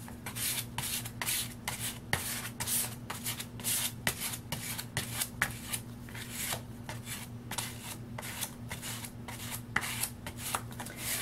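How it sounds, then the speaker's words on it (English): An old plastic gift or key card drags gesso across cardboard pages in repeated quick, raspy scraping strokes, close and steady over a low background hum, with no talk. "old gift cards and key cards from hotels that I stay at to apply the gesso."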